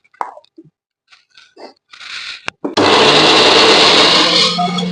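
Soaked moong dal and potato are ground into batter in a mixer grinder. A few soft plops and clicks come first, then a short whir, and from about three seconds a loud, steady motor roar runs to the end.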